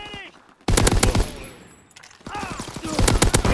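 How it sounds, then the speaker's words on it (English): Aircraft strafing run in the World War II shooter Call of Duty: WWII: two dense rapid-fire bursts of heavy machine-gun fire, loud and close, separated by a short lull with a fading rumble. "Call for a strafing run."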